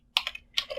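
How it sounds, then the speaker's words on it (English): Quick keystrokes on a computer keyboard while an nmap command is typed, two close clusters of crisp clicks, near and clear against silence. "So let me just type here nmap"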